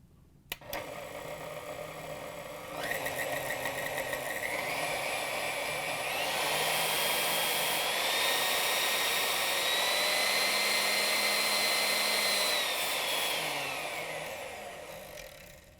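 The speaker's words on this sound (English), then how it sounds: "you should hear a distinct noise between all the speeds as you go up in speed" A Whirlpool/KitchenAid stand mixer runs steadily with a close motor whir whose whine climbs in distinct steps as it moves up through its speed settings, then winds down at the end.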